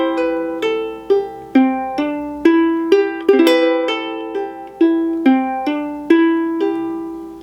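Ukulele plays four bars of a song in C, with clearly plucked notes and chords ringing one after another in a steady, moderate rhythm, close and alone without any talking.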